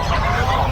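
Geese honking at the Bocaue pets and livestock market, a loud, close, brief burst of harsh fowl calls that fills the moment, with no talking.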